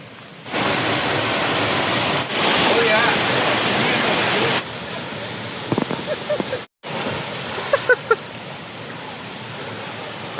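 A private waterfall near Courtallam roars as a loud, steady broadband rush, with brief dropouts and splashes, while people talk nearby.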